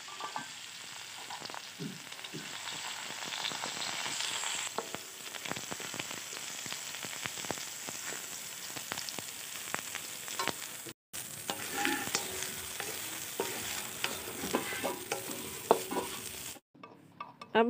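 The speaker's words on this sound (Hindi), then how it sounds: "अब हमारा सोयाबीन फ्राई हो चुका है।" Soybean chunks frying in oil in a kadai, a steady crackling sizzle with frequent small pops and occasional stirring scrapes, close but fairly soft, running without talk and dropping out briefly twice.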